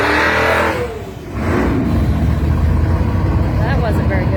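An LS-swapped Plymouth Duster with a hardwired fuel pump makes a drag racing pass. The loud engine roars, dips briefly, then holds a steady, rough, heavy drone close by.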